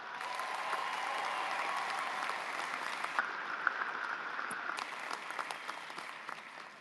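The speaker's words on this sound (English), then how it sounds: "Let's give them a big round of applause." Steady applause from the audience at a Miami University fall commencement in a large hall, a dense, even wash of clapping that holds for several seconds and tapers slightly at the end.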